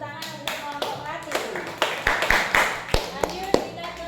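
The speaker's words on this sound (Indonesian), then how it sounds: "Beri tepuk tangan untuk kelompok Melati." Classmates clap for a student group in a classroom lesson, a scattered, uneven burst of hand claps with sharp individual slaps, mixed with voices talking over it.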